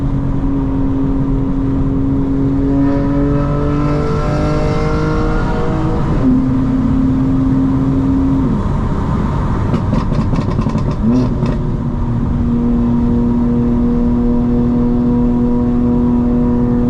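A 900 hp 2025 BMW M4 Competition xDrive with new suspension accelerates hard, its engine note climbing in loud rising sweeps with a brief crackle between gear changes, then settling into a steady high drone, heard from inside the car.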